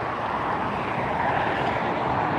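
An Air Premia Boeing 787-9 Dreamliner lands at LAX, heard as a steady, even jet roar with no clear rise or fall across the brief stretch.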